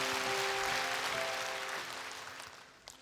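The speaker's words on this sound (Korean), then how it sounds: "우리 한번 박수로 격려하고 이야기를 듣겠습니다" Soft congregation applause in a church service, faint and fading over a few seconds, with a lingering sustained tone beneath it early on.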